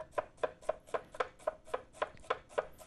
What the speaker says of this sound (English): And now we just slice the onion.